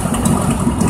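A 1983 Ford F100 stepside pickup's engine idles steadily up close, a loud, continuous low rumble with no talk over it.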